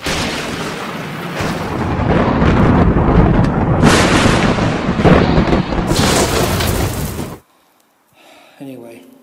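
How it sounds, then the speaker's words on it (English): Heavy, rumbling video game thunderstorm noise with deep booming thunder that swells and rolls for several seconds, then cuts off abruptly into near silence with faint tones. "a violent thunderstorm came."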